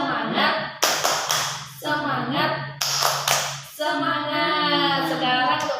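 An audience of parents at a stunting-prevention session claps the tepuk semangat, bursts of rhythmic hand claps alternating with chanted voices, close and loud, with a low hum underneath.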